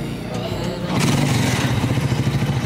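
A small motorcycle engine on a tricycle rumbles steadily nearby, its chugging growing louder as it revs up, with faint voices underneath.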